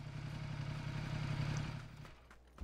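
Motor tricycle engine running in PUBG, a steady low mid-pitched chugging rumble with rattly texture that fades away after about two seconds.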